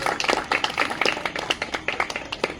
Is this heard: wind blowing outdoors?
no